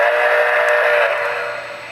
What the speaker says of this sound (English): Of course, it has a whistle, bell sound.